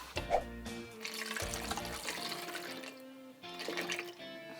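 Homebrew liquid pours and splashes steadily into a container, fairly close and moderately loud, with a brief pause before the flow resumes.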